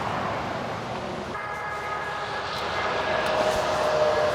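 Steady traffic roar on the Trans-Canada Highway in New Brunswick, a continuous broadband wash of passing vehicles heard from the roadside, swelling slightly toward the end with a faint high tonal whine running through it.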